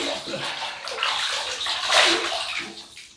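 Water runs steadily from a tap into a basin while the face is wetted before a shave with a Gillette open comb double-edge razor, a continuous close splashing rush with a brief surge near the middle.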